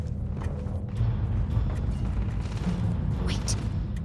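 Gunfire crackles in the space game Starfield as a few sharp, scattered shots sound at a moderate distance over a steady low background rumble.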